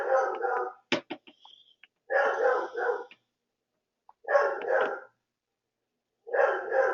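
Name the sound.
dog barking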